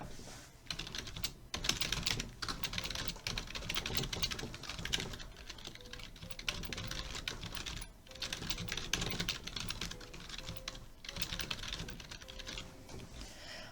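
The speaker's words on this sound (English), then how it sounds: "I have a very clicky keyboard" Rapid, continuous typing on a very clicky computer keyboard, dense streams of sharp keystroke clicks with brief pauses between bursts, close and fairly steady in level.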